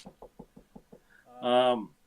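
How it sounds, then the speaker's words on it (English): Six quick knocks on wood rap out in a steady rhythm, sharp and close, followed by a voice speaking right after. "I better knock on wood."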